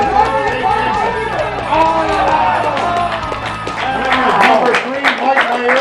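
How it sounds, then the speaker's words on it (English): Crowd cheering and whooping at a log rolling contest during a lumberjack festival weekend, a loud, dense wash of many voices shouting together with scattered clapping, sustained and close. "Cheer them on, ladies"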